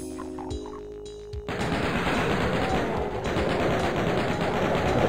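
Chain gun in the video game Doom opens up after a brief quieter stretch, then fires nonstop as a loud, dense, rapid burst of shots for the remaining few seconds.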